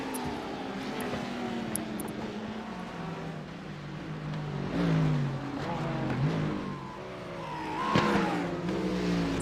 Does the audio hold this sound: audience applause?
no